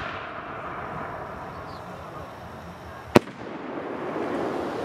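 A 3-inch firework shell with red nitrate strobe stars bursts outdoors as one sharp, distant report, heard against a steady background hiss.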